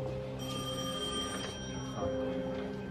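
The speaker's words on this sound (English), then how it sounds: "Your phone's ringing." A telephone rings steadily in an indoor scene, its repeated bell tones sounding over a low background hum and faint room noise, with no talk during the ring.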